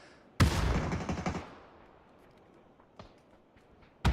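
Gunfire in the battle royale game PUBG during a competitive match: a single quick burst of shots rings out and fades into the background, followed by a couple of faint distant pops.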